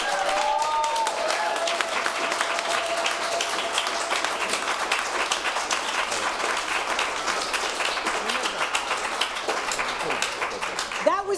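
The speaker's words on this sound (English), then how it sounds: "By round of applause." An audience at a live show claps and cheers continuously to vote for a contest winner, a dense wash of applause with scattered whoops and voices mixed in.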